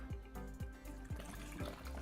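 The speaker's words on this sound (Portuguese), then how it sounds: "E coloco água até cobrir todos os vegetais e o frango." Water from a tap runs and splashes into a pot of vegetables and chicken for a chicken pie filling, a soft continuous trickle and gurgle, quiet and close, with faint rhythmic clinks beneath.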